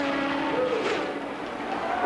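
Race cars roar around the Indianapolis oval, a steady loud wash of engine noise with a faint pitch sweep as a car passes, and the sound holds unbroken from start to finish.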